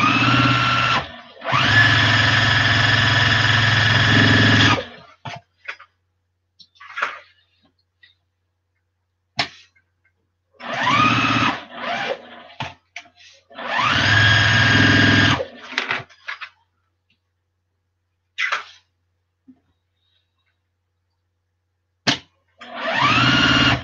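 A sewing machine stitching quilting lines across a Christmas quilt, running in several loud close bursts of a few seconds each, separated by pauses with faint handling clicks.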